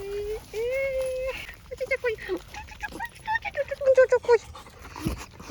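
Two dogs, one small and one large, whimper in high, wavering whines, followed by a run of short yelping whimpers, close by with a voice briefly mixed in.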